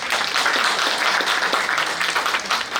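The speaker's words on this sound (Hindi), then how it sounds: "इनके लिए जोरदार तालियां।" Steady, dense applause from an audience at a launch event, loud and continuous with no break.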